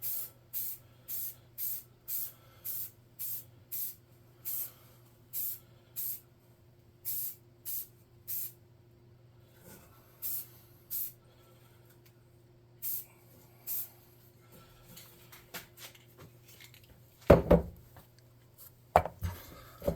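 Repeated short, sharp hisses of spray paint are applied as a base coat to miniatures, about a dozen evenly spaced bursts up close, followed by a few clattering knocks.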